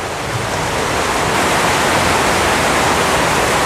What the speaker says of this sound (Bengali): বৃষ্টির শব্দে কানে কিছু শোনা যাচ্ছে না